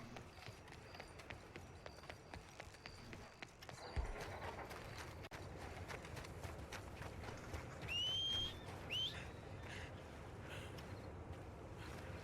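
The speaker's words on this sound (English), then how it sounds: "when I named this horse, I was going to put it Monty" Horse hooves clip-clop in the video game Red Dead Redemption 2, a steady rhythmic trot under soft ambient wind and faint game sounds, with a couple of brief bird-like chirps.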